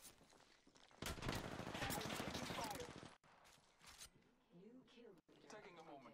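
Video game gunfire erupts in a loud sustained burst of rapid shots, followed by scattered quieter shots and game sounds, while players talk over it.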